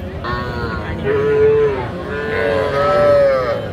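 Young heifer and bull calves moo in drawn-out, rising calls at a cattle market in Aftabganj, two or three overlapping bellows close by amid a murmuring crowd.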